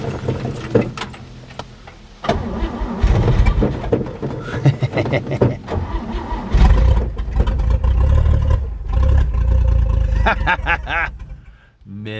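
A 1958 Pontiac Pathfinder, rescued from the crusher, cranks and its engine catches, then runs and revs loudly with a rough, rumbling roar that swells and falls over several seconds.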